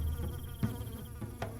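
Hornets buzz in a dense, continuous drone close by, with several wingbeat whines overlapping and a few sharper passes, and no talking.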